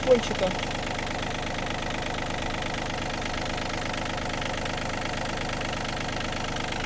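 A Yanmar RS-240 mini tractor engine with a Japanese battery idles at a close, steady, even diesel chug with a light knocking beat, after a brief bump at the start.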